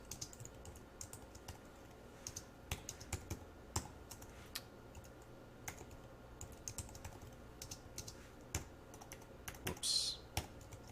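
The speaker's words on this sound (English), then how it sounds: "Let me type that out." Keys clack on a computer keyboard in irregular bursts, fairly faint and close, over a low steady room hum with no talking.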